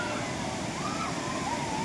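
Kutralam waterfall gives a steady, close rushing roar of falling water down a rocky slope, continuous and even throughout, with a voice faintly heard over it.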